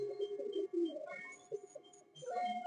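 Male pigeon of a Madrasi or Giribaz fancy breed, handled for sale, gives low rolling coos close by, several soft phrases in a row with brief pauses.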